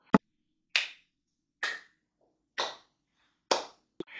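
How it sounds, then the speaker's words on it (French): Six slow, isolated hand claps spaced roughly a second apart, each sharp and brief with silence between them, a sparse and unenthusiastic applause. "mous applaudissements"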